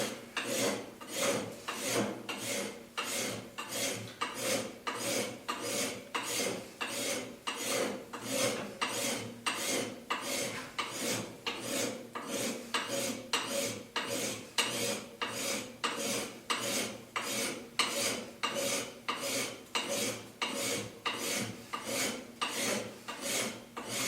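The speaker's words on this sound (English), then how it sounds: "every once in a while, I'll be draw filing, and I'll move it up a little bit" Steady rhythmic rasping of a metal file drawn along an axe bevel, one stroke roughly every half second across the whole stretch, close and moderately loud with no talking.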